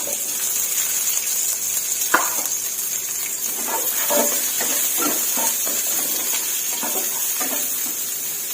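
Garlic, carrots and baby corn stir-frying in a hot pan, a constant bright sizzle with repeated scraping and tossing knocks from the spatula, close and busy without any voices.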